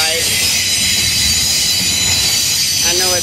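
A loud train passes close by with graffiti-covered cars, steady rumbling roar and high squealing wheels rising near the end.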